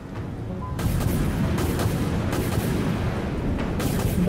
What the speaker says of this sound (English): Autoguns fired